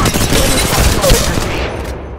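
A loud, continuous burst of automatic gunfire from the mobile game Apex Legends Mobile, close and rapid-fire, fading out at the end.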